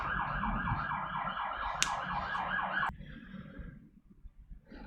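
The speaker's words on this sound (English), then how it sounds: "we've got an ambulance going past" An ambulance siren wails in a fast repeating yelp as it passes, fairly loud, then cuts off abruptly, leaving faint traffic rumble behind.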